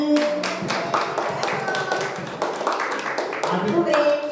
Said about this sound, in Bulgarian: пляскаме за най-готиния рожденик, Ади